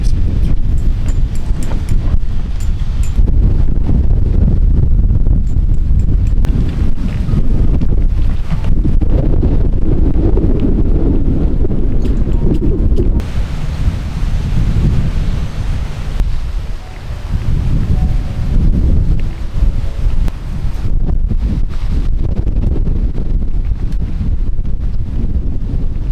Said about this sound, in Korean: 와, 역시 바닷바람이 진짜 무서운 것 같습니다.